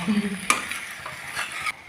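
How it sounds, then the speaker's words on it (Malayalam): Chicken for chicken peralan being stirred and mixed in a slightly too-small pan: a sizzling bed of frying with scraping stirring strokes, a sharp clink near the start and a sudden cut-off near the end. "ചിക്കൻ നന്നായിട്ടൊന്ന് ഇളക്കി യോജിപ്പിച്ച് കൊടുക്കുന്നുണ്ട്"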